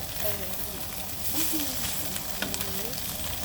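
Omelette with onion frying in oil in a small nonstick pan, a soft, continuous sizzle heard fairly close and quiet, with faint rising squeaks from a spatula or pan.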